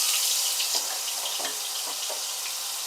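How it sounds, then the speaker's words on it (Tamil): Chopped onions sizzle in hot oil in a kadai while pasta is being cooked. A steady, bright hiss of frying continues throughout, with a few soft crackles and no voices. "அந்த வெங்காயத்தை சேர்த்துக்கலாம்"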